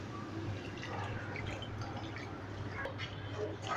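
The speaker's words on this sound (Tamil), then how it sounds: "இப்போ இதில் கொஞ்சமாக தண்ணி சேர்த்துக்கலாம்." Water is poured into a pan of masala for kadai paneer, giving a steady close splashing and trickling wash over a low background hum.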